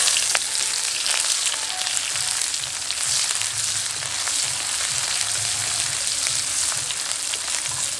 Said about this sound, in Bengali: পেঁয়াজটাকে হালকা বাদামি করে ভেজে নেব।